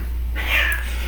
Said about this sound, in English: those are the cats